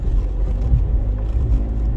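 A car's underside scraping and rubbing over rough ground on a rural road in Mid Wales's Elan Valley, heard as a steady low rumbling drone from inside the vehicle for about two seconds with no clear separate scrapes.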